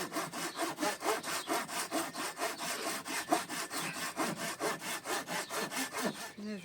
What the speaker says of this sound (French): j'ai retrouvé ma scie dans les affaires de monsieur